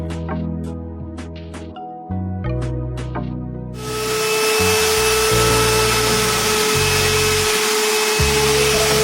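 Vacuum suction wet cleaning of seats in a Vande Bharat Express train coach at a rail depot, a steady loud whine of the machine that starts abruptly and runs continuously after some clattering.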